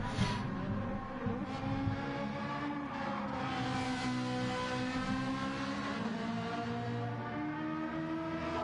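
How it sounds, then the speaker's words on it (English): Steady engine drone with layered harmonic whines that rise and shift in pitch, racing cars in the video game Gran Turismo 7 revving continuously at moderate volume, no voices. "The car noises still seem a little quiet, don't they?"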